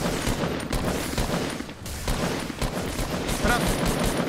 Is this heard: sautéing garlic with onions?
no